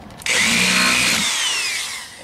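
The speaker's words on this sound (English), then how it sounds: "I have the mailbox turned over and I drill holes" A power drill spins up sharply and whines at high pitch as it bores a hole into an overturned mailbox, a single close, loud burst that gradually fades as the motor winds down.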